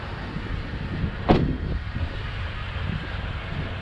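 A 2019 Toyota Tundra TRD Pro left idling outdoors, a low steady engine rumble beneath gusting wind noise on the microphone, with one brief sharp knock partway through.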